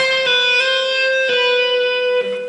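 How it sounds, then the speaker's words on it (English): Electric guitar notes flow legato as fingers pull off and hammer on, a few quick changes in a smooth, sustained phrase with slight effects. "So you do the pull off and hammer on"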